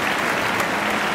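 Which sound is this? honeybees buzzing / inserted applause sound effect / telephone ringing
inserted applause sound effect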